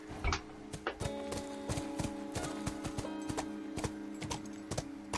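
A horse's hooves clip-clop in a steady walking rhythm in The Last of Us, quiet, with light rattling and faint ambient tones underneath.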